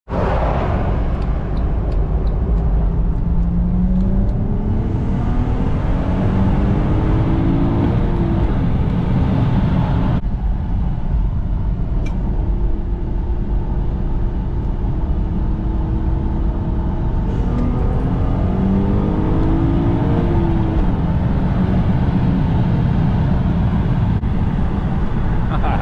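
Acura TL SH-AWD with a ported intake and bigger injectors pulling hard under acceleration on a test drive, a loud continuous engine drone with rising and falling harmonics, heard from inside the car with road noise.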